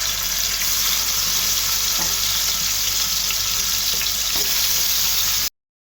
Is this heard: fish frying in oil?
yes